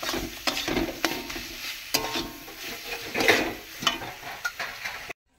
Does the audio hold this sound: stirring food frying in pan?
yes